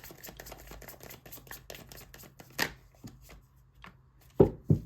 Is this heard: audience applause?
no